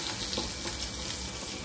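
Sardines fry in a pan with a brief, steady close sizzle and crackle of hot oil, no voices.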